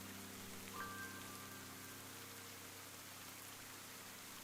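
Rain falls steadily in the video game Ender Lilies, a soft, continuous hiss of drops on surfaces with low ambient hum beneath and a brief faint tone early on.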